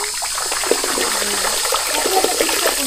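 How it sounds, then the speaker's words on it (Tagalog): Water pours steadily out of holes in a mineral spring outflow, a continuous broadband splashing and trickling with faint voices in the background. "May lumalabas din na tubig galing dyan sa mga butas na yan."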